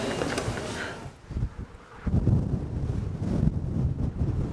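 Strong gusts on the northern coast of Hawaii's Big Island buffet the microphone with a loud, rumbling roar that swells and fades, continuous for several seconds with no voices.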